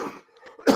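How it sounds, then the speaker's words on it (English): A single short, harsh cough breaks out during a lecture, heard close and fairly loud after a brief pause. "excuse me, I've got a very bad cough."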